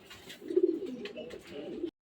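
Super Mili racer pigeons, a light-coloured breeding pair, give soft, low cooing that runs in a steady murmur for about two seconds, close by and fairly quiet with a faint touch of other noise.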